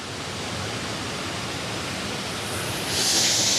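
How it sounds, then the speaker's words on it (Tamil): Waterfall pouring down with force during summer, a steady, dense roar of rushing water that holds constant and swells slightly louder near the end, with no voices. "அந்த தண்ணி மேலேருந்து வர்றது தான் கீழே வந்து அவ்வளோ ஃபோர்ஸாக விழுந்துக்கிட்டு இருக்குது"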